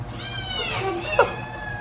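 A cat gives a single drawn-out meow, clear and fairly close, rising and then falling, over a low background hum, with a brief sharper cry near the end.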